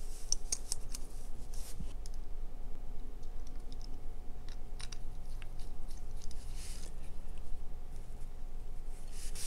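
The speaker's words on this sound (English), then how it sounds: "Let's install the blade and see what it looks like." A blade is fitted into a Boker low-profile safety razor, faint close-up metallic clicks and small snaps scattered over a quiet background, with a few sharper ticks.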